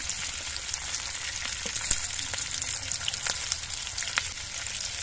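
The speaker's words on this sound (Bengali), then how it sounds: "আমার ঘরে আজকে বাটার রান্না নেই বলে আমি সাদা তেলেই কিন্তু এই সবজিগুলো ভেজে নিচ্ছি" Onion and capsicum frying in white oil in a pan, a steady close hiss and crackle of sizzling with small pops and occasional stirring clicks, no speech.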